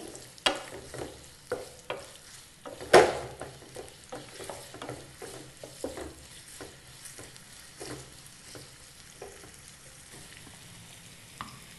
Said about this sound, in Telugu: ఆయిల్ వేడొచ్చిందండి ఇందులో ఆనియన్స్ వేసుకోవాలి ఆనియన్స్ వేసుకొని ఆయిల్లో బాగా కలుపుకోవాలి